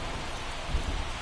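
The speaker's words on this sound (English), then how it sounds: "the field's not going to be able to hold up if the rain gets any worse than this" Steady rain pouring onto a baseball field in the MLB The Show 24 video game, a dense continuous hiss with low rumbling underneath, loud and unbroken with no speech.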